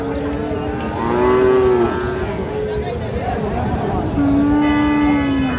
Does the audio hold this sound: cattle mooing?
yes